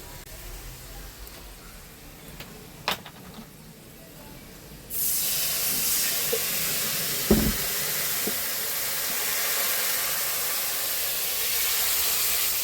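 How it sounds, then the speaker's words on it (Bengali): Onions fry in a pan with cumin powder for a cauliflower, potato and tengra fish dish. A faint background sizzle turns into a loud, steady hiss halfway through, with a couple of small clinks. "পেঁয়াজটা কিন্তু আমি লাল লাল করে ভেজে নেব"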